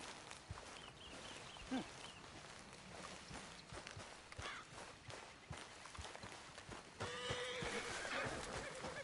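Horse in the video game Red Dead Redemption 2, quiet and somewhat distant, with scattered hoof thuds and movement noises and a whinny rising near the end.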